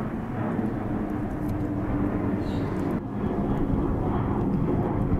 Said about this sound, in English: We got wind and airplanes going overhead.